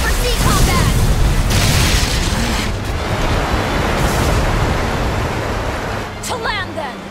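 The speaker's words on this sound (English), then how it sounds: "Cannon fire astern!" Cannon fire booms from a pirate ship astern in the video game Tales of Berseria, a loud rumbling blast at the start that fades into rolling noise, with voices talking over it.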